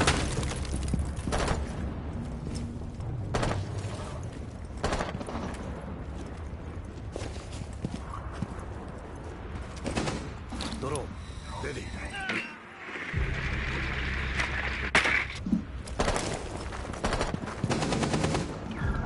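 Video game gunfire during a PS4 shooter match, repeated rapid bursts and single shots scattered across the clip along with mechanical clicks and footsteps, while players talk over it.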